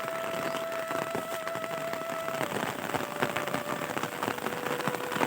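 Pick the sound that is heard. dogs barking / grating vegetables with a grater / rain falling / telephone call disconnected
rain falling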